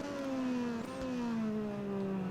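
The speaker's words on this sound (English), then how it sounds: "I love the overrun on the exhaust. This sounds lovely." A Moto2 racing motorbike engine in the video game MotoGP 19 drones steadily, then its pitch slides lower on exhaust overrun as the throttle eases off, with a steady whine underneath.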